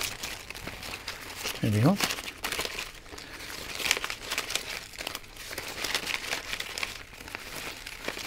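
Thin strips of balloon rubber pulled and twisted into a pom pom bow give off loud squeaks and crinkly rubbing, with a sharp rising squeal early on, while a person talks briefly over the handling.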